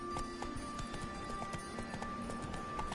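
Geralt's horse Roach trotting in The Witcher 3, hooves clip-clopping in a steady, even rhythm close by over a constant game ambience, with no talk.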